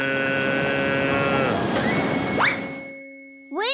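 Cartoon cows lowing on a farm by a steep hill, a loud drawn-out animated moo over a steady hum, rising into a high upward call near the end.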